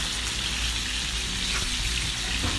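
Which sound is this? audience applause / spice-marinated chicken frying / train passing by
spice-marinated chicken frying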